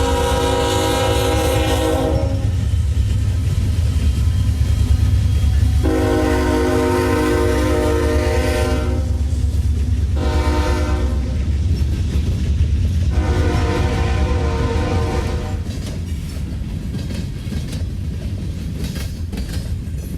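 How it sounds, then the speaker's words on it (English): Long Norfolk Southern freight train in Cordele, Georgia, with 96 coal loads up front followed by 40-plus mixed freight cars, rumbling steadily close by as repeated long horn blasts sound over the rolling rail noise. "It looked like a coal train at first, with 96 coal loads in the front of the train, but then 40 plus cars of freight dissolved that presumption."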